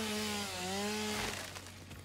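A chainsaw in the video game Satisfactory runs with a steady buzzing engine drone that wavers slightly. It cuts off about halfway through, leaving rough scraping noise and a low background hum.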